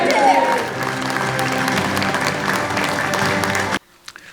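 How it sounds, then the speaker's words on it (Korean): Applause from the audience at a Democratic Party of Korea party-leader preliminary election speech event, loud and sustained for nearly four seconds with crowd noise and voices mixed in, then cutting off abruptly to quiet. "뜨거운 성원의 박수 부탁드립니다."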